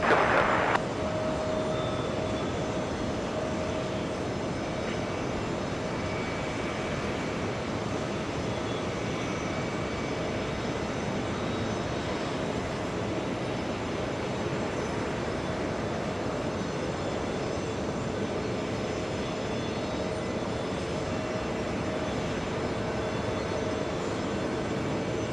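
A JetBlue jet airliner takes off from runway 22 right at JFK airport in hot weather. A loud, continuous engine roar holds steady for the whole stretch, with no voices.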